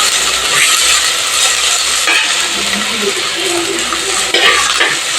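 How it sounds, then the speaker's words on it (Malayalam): Shallots and onions fry in a pan while being stirred, producing a loud, steady sizzle with scraping and occasional metallic clatter of the spoon against the pan. "നന്നായിട്ട് അങ്ങ് ഇളക്കി കൊടുക്കാം കേട്ടോ"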